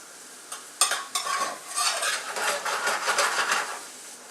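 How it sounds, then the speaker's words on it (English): Food sizzling in a pan with a few sharp utensil scrapes and clinks at the start, then a busy crackling fry that continues steadily. "So now that it's sauteing, you hear that? That's what you want to hear."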